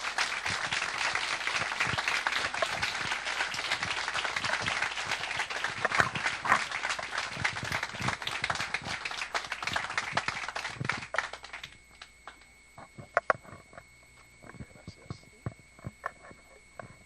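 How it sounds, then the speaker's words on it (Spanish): Strong audience applause welcoming a speaker to a talk, steady dense clapping for about eleven seconds that stops abruptly, leaving a quiet room with a few stray taps. "con un muy fuerte aplauso me gustaría recibirlo a Antonio Portugal Albizuri"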